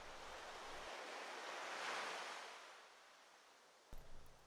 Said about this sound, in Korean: 문득 귀에 익어있던 파도 소리가 다시 의식되며 정신이 들었다.